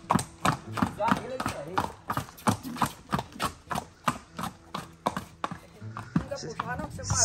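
Hooves of a horse on a farm clip-clop in a steady walking rhythm, a dozen or so close, distinct knocks, while people talk over them.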